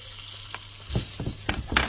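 Lamb pieces sizzle with honey and prunes in a Cookeo pressure cooker, a quiet steady hiss broken by a few louder crackles and stirring scrapes.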